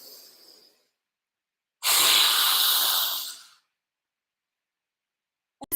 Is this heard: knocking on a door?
no